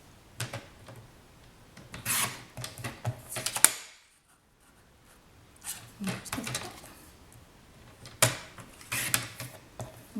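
Paper being trimmed on a paper trimmer for a card box border: soft, close rasping slides in bursts, a short silent pause, then more scraping strokes.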